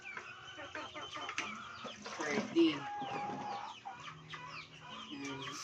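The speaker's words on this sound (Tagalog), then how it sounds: "ang manok, nabasa na sila, basang-basa na sila dahil sa ulan" Chickens clucking nearby in soft, irregular bursts after being soaked by rain, with a person speaking briefly among them.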